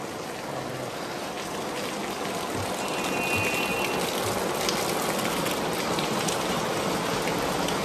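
Steady rain pours over a crowded urban village in Xi'an, a thick, continuous patter and hiss that grows slightly louder midway, with occasional sharper drips nearby and no one speaking.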